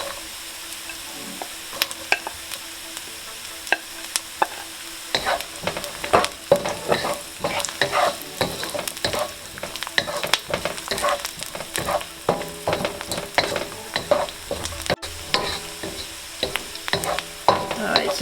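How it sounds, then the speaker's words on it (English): Chinese sausage stir-frying with garlic in a wok for radish cake, a loud continuous sizzle broken by frequent sharp spatula scrapes and clatters, busy and close, with no talk. "Now I'm going to add the Chinese sausage in here."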